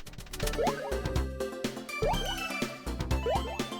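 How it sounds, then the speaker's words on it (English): Cartoonish water splash sounds from a video game repeat three times over busy background game music, each a bubbly rising blip with a thump, close and clear. "Also, the water splashing sound is just bad."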